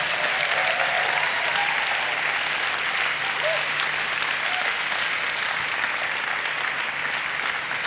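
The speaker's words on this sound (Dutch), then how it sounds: "een daverend applaus voor onze Bas te vragen" A large crowd at a GroenLinks 30th-anniversary gathering gives sustained, loud applause for Bas, a dense unbroken roar of clapping lasting several seconds.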